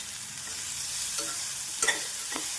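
Vegetables, onion, tomato, carrot and beans, sizzle in a hot pan for semiya khichdi, a steady close frying hiss with a few sharp scrapes of a spoon stirring, no talking.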